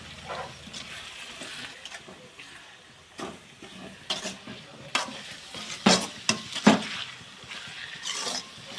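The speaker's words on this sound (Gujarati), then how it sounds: "હાલો ટમેટા નાખી દઈએ ટમેટા રસાઈ ગયા" Tomatoes frying in a pan for a green tuvar (pigeon pea) curry, with soft sizzling under scattered scraping stirs and clinks of a spoon against the pan, growing busier toward the end.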